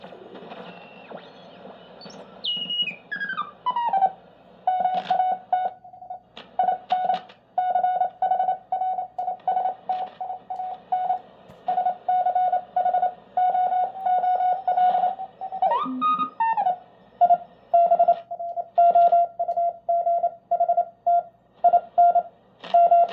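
Steady on-off beeping of a single mid-pitched Morse code CW tone keyed in irregular dots and dashes on a TMC GSB-1 SSB adapter, with a few sweeping whistles from radio tuning at the start and midway.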